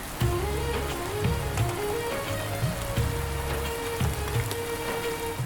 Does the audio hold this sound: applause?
no